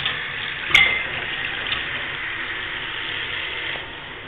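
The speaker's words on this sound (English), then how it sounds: "Turn your water on." A sink tap runs in a steady, faint hiss of water, with a brief clunk near the start and a slight drop in flow toward the end.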